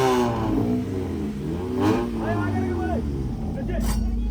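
A modified car with a downpipe exhaust revs repeatedly at a car meet in Goa, its engine pitch sweeping up and down loudly under ongoing talk.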